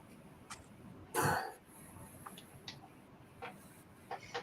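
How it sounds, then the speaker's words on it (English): A single harsh cough bursts out near the start, followed by faint clicks and small throat noises in a quiet room. "So I've been coughing a lot."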